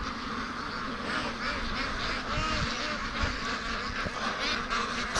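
Free-range ducks quack repeatedly nearby in a busy, overlapping flock chorus outdoors, with steady background noise throughout.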